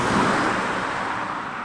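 A low, steady diesel car engine hum while driving, very quiet and smooth, with faint road noise and no other sounds.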